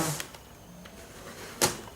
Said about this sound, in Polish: podważyłem delikatnie róg i klawiatura zeszła